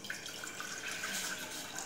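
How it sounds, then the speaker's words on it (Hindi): Water poured from a cup into a pan on a gas stove while making herbal tea, a steady close splashing trickle lasting the whole two seconds with no talk. "उसमें ऐड करेंगे एक कप पानी"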